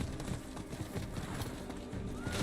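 Horse hooves galloping in the video game Diablo IV, a steady clip-clop rhythm at moderate level amid busy game ambience.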